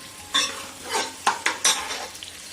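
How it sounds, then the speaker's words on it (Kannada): Onions stirred and frying over a high flame for chicken biryani, with a soft sizzle under several sharp scrapes and clinks of a spoon against the pan. "ಫ್ಲೇಮ್ ಜಾಸ್ತಿ ಮಾಡ್ಕೊಂಡು ಫ್ರೈ ಮಾಡ್ಕೊಳ್ಳೋಣ."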